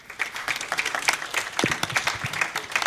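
An audience at a data conference applauds after a talk, dense clapping from many hands filling the room evenly and continuously, close and fairly loud with no voices over it.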